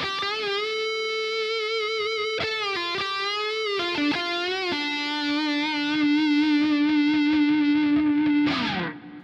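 Distorted electric guitar played through a plugin emulating a 1957 gold top Les Paul, with sustained overdriven notes, a few bends and slides, and a final scraping pick slide, loud and up close with no talking.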